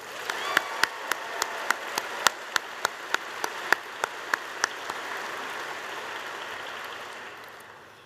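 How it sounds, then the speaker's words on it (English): An audience at an evening event for US Air Force personnel and military families claps, with distinct sharp hand claps over a soft wash of applause that thins and fades out toward the end. "Let's give her another round of applause."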